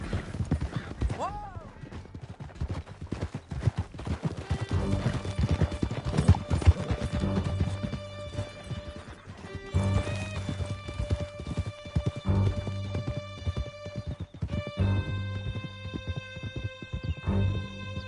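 Horses gallop hard in Red Dead Redemption 2, with steady clip-clop hoofbeats running through the whole stretch alongside a brief whinny, a game music score and occasional voices.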